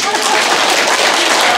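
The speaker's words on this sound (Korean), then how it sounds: "박수 한번 좀" Applause from an audience at a live talk or presentation event, a dense steady patter of many clapping hands filling the whole moment at close, loud level, with no voice over it.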